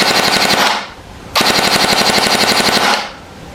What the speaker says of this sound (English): let's pull the trigger. But there's obviously no BBs in it first. We've checked that, and let's hear what the gun sounds like